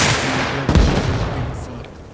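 A single loud, sharp burst of machine gun fire cracks out midway through, then fades into a dull background.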